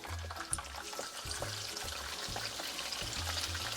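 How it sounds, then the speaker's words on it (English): Snapper fish frying in moderately hot oil with onion, garlic, pepper and bay leaf, giving a steady close sizzle with soft crackles and light bubbling throughout. "Now you are ready to fry your fish. See, it's going in."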